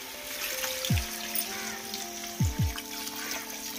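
Water poured into a pan of chicken curry while cooking, a soft continuous trickle with a few low splashing gulps, close by and moderately quiet.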